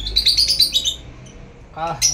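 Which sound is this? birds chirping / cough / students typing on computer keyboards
birds chirping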